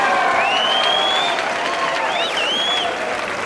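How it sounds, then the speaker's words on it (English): Applause and cheering ring out at a women's diving final at the 2013 FINA World Championships in Barcelona, a steady wash of clapping with high whistles and cries rising over it. "those Chinese coaches can afford to cheer and applaud"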